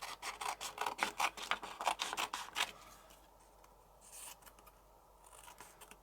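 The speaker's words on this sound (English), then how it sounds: "And then I'm going to cut around that." Scissors snip around a small paper piece for handmade card making, giving a quick run of close, crisp rhythmic cuts followed by a few quieter, slower snips, with no speech.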